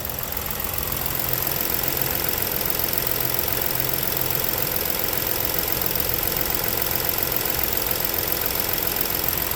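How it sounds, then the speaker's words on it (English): A 2017 Ford Explorer Police Utility engine idles steadily in hot Southern California weather, a constant even hum with faint ticking and no voices. "I'm going to be quiet now for a few seconds until you get to hear the actual car at idle."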